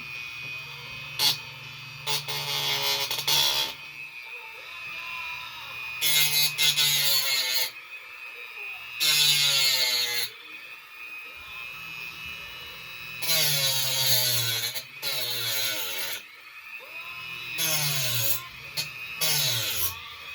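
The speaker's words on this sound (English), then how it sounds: "You could get one of these and literally attach it to your drill." A handheld drill fitted with a buffing attachment, used on a repair job for scratches and cracks, whirs in repeated short bursts, switching between a lower and a higher speed, fairly close with quiet gaps between runs.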